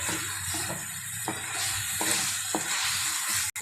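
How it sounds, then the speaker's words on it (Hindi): Taro pieces sauté in spices in a hot pan, a strong continuous sizzle with periodic scraping strokes of a spatula and a sharp clack near the end. "तो मैं इसको मसाले में अच्छे तरीके से भून लेती हूँ।"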